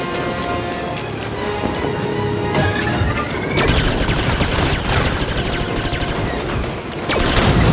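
Dense, continuous crackling bursts of rapid video game gunfire, loud and close, with layered impacts and a steady roar throughout, no voices.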